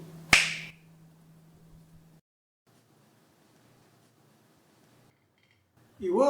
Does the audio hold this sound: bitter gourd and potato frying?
no